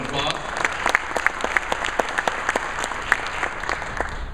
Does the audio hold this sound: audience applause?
yes